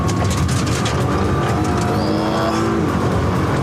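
A 2013 Nissan GT-R Nismo accelerates hard on a racetrack, its loud engine roar steady and close throughout, with the pitch climbing as it pulls through the gears.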